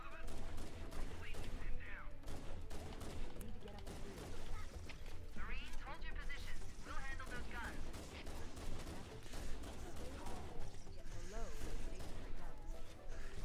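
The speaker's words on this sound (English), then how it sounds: "very satisfying using the pistol." Rapid pistol gunfire in Halo CE Anniversary crackles in dense, continuous volleys with loud bursts and mechanical game effects, mixed with a voice talking.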